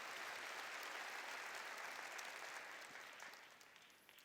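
Congregation at a church service applauding together, a steady dense wash of clapping that holds for several seconds and thins slightly toward the end.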